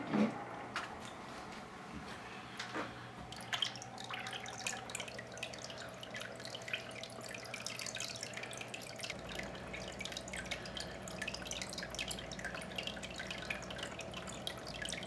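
Water from a jellyfish aquarium filter flows and trickles steadily, with a continuous soft splashing and dripping that stays fairly quiet and even throughout, with no talking.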